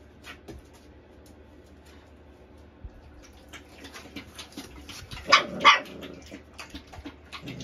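Bull terrier puppies give a few small barks and yips, with two sharper louder barks near the middle, over low rustling and soft grumbling noises indoors.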